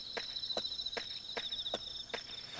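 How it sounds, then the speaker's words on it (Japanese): Bell crickets chirp in a nighttime scene of the horror game Yomawari: Midnight Shadows, a steady high trill with a faint tapping of footsteps underneath at an even pace. "おお、スズムシが鳴き出したぞ。"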